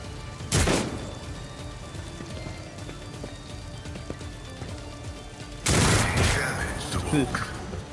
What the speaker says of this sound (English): These dudes and their grenades!